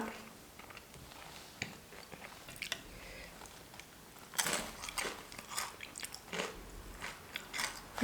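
Crunchy snack coated in spicy Mexican-style chili sauce being bitten and chewed up close, soft crunches at first, then louder, denser crunching bursts in the second half, with no talking.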